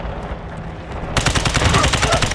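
Rapid automatic fire from a Glock 18 fitted with a 50-round drum magazine in a video game, a dense, loud, unbroken burst that starts abruptly after a brief stretch of quieter background.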